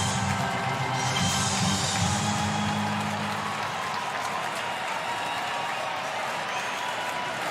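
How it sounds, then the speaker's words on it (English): Baseball stadium crowd at an MLB postseason division series game, a broad steady roar of many voices and scattered applause that fills the space and holds loud throughout, with no single voice standing out. "Crowd starting to swell a little bit."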